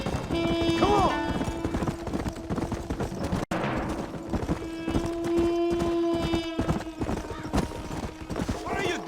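Horse hooves clip-clop in the Red Dead Redemption video game, a steady galloping rhythm with a whinny early on, mixed with ambient game sound and voices.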